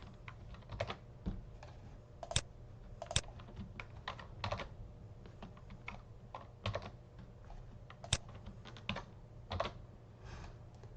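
Keyboard shortcut keys pressed in a spreadsheet: quiet, irregular clicks and taps from a computer keyboard, with a few sharper key strikes scattered among them.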